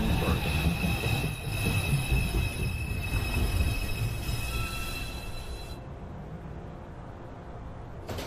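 A New York City subway 2 train pulls into 215th Street station, a loud continuous rumble of railcars with wheel squeal and high metallic tones that cut off sharply near the end.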